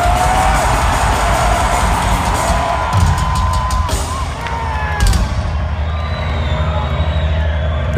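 Large crowd at a live metal concert screaming, whooping and cheering loudly and continuously, with bangs and stage sounds mixed in.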